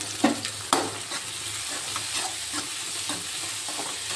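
Onions sautéing in a pan until golden for Tamil vadacurry, a steady close sizzle with a few sharp scrape-and-stir clatters near the start and softer stirring later, no talk.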